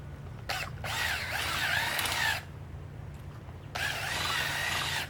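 A power tool digs planting holes for tomatoes in a garden row, whirring in bursts of a second or two with short gaps between, fairly close and moderately loud.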